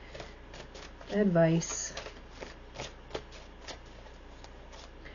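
Tarot cards are shuffled and pulled for a reading: soft riffling and tapping, loudest in a brief burst early on, then scattered light clicks, with a voice speaking quietly over it.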